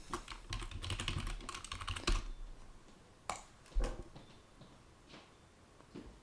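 Keys on a computer keyboard are tapped in a quick burst of close clicks, then a few scattered single keystrokes follow after a pause, quiet and alone in a still room.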